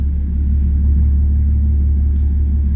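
An Audi TT engine rumbles in a deep, steady drone on a dyno, loud and close. The pitch stays constant without climbing into a rev.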